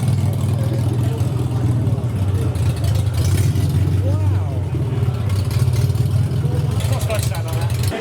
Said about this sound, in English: So that's what a Mini sounds like when its exhaust has fallen off.